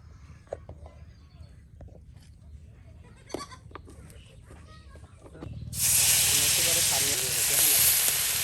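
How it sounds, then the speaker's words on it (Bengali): Goats bleat in short, scattered calls beside a village paddy field and vegetable garden, heard under light background noise before a loud, steady sizzling hiss takes over. "উপরে ছাগল গরু সবাই কিন্তু খাওয়া দাওয়া করতেছে"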